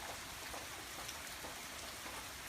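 Steady rain falling at night, a dense continuous hiss of drops on surfaces with no voices or other sounds, even and unbroken throughout.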